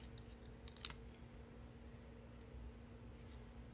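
A few quick scissor snips through thin plastic packing on a card-making project, soft and close over a faint steady hum.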